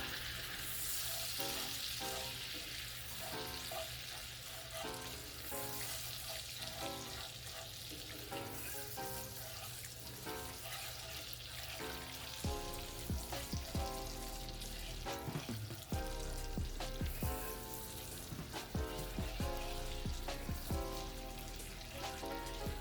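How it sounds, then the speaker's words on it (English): Sugar dissolves in sizzling butter in a pan while making tarte tatin. A steady, crackling sizzle runs throughout, with occasional stirring scrapes and clicks and no talk. "we can dissolve our sugar in the butter"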